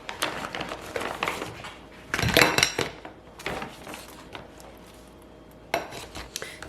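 Meat pulled from pre-scored lobster shells by hand, with close cracking, clicking and rustling shell sounds in short clusters, loudest in one burst of snapping, then quieter handling.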